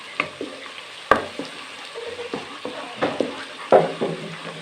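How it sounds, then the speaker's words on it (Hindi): Ginger garlic paste fries in a pan for keema matar salan, a soft sizzle broken by repeated stirring scrapes and clicks of a spoon against the metal. "1 टेबलस्पून अदरक लहसुन का पेस्ट, ठीक है नाजरीन। इसको भी हम इसमें फ्राई करेंगे।"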